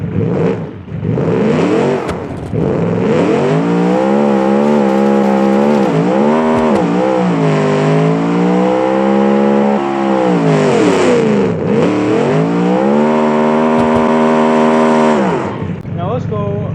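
An all-wheel-drive car in BeamNG launches hard and accelerates, its engine revving up loud and close through repeated gear shifts, rising and dropping in pitch for many seconds.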